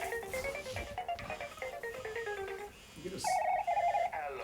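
A mobile phone ringtone plays on and on unanswered in a quiet room, a steady electronic melody of repeating notes that pauses briefly and then starts a new, louder phrase, with no one speaking over it.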